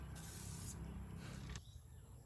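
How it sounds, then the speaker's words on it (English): KOBY tire polish sprayed onto a car tire, heard as two or three short hissing spray bursts over a steady low background rumble, close and fairly quiet. "after few minutes of spraying KOBY tire polish"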